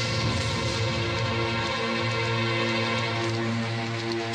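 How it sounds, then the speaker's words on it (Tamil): Rain, a continuous dense hiss and patter of falling drops, steady and fairly loud throughout with no talking. "ஏய் மழையில நனையாத, உள்ள வா."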